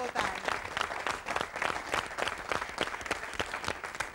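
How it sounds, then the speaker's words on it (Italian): Applause from a studio audience, lively crowd clapping with distinct claps, moderately loud and continuous through the clip. "Bravo, un applauso."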